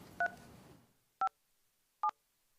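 Telephone keypad DTMF tones dialed while entering a meeting access code on a county board phone line: three short, clear beeps spaced about a second apart, the first over fading background noise, the others alone in silence.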